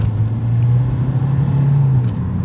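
Opel Astra H 1.3 CDTI diesel car accelerating hard at full throttle in second gear, a steady loud engine drone rising slightly in pitch, heard from inside the cabin with no talking.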